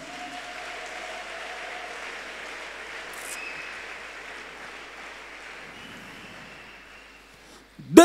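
A church congregation applauding, a sustained even wash of clapping that fades toward the end, with a brief loud knock at the close.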